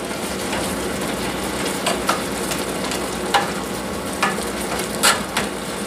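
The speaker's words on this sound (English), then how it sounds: "you're just going to keep stirring a little bit so that you can kind of help the rice out to evenly cook in a pot" Rice and coconut milk are stirred in a pot, a continuous gentle bubbling sizzle broken by a few light spoon scrapes against the pot, close and without speech.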